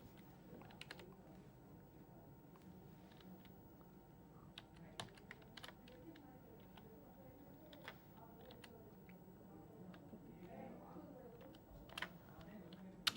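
Java loop code being typed on a computer keyboard, soft, quiet key clicks in an irregular run with occasional sharper taps, fairly close in a quiet room.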